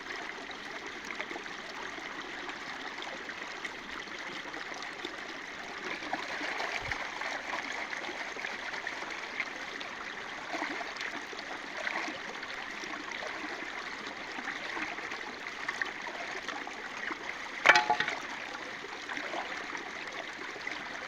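A creek where gold is being panned for, its flowing water a steady, even rush and trickle, moderately close, with one brief louder clink near the end.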